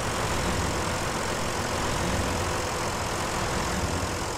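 Tractor engine in the Snowrunner video game, a steady low rumbling drone held continuously and fairly loud throughout, with no talk over it.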